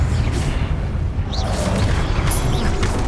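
A Confringo fire spell blasting in Hogwarts Legacy, a deep booming burst amid rumbling combat noise, loud and close.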